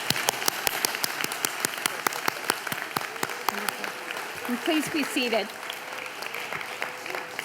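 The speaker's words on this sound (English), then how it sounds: "Let's give a last round of applause to our graduates." Closing applause for graduates at a commencement ceremony, steady clapping from an audience that continues as a speaker talks over it midway, then carries on with distinct claps to the end.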